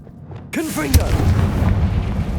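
A Confringo blasting spell detonates in Hogwarts Legacy, a sudden loud explosive boom with a spoken exclamation at its onset, followed by a sustained deep rumble and debris noise.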